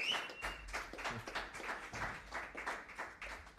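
An audience at a live jazz concert claps for the drummer, a steady, moderately faint patter of applause that keeps going throughout.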